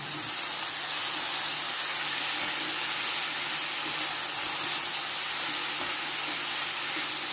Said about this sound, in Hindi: ये देखिए इस मसाले के साथ हम अपनी दाल मिक्स कर देंगे।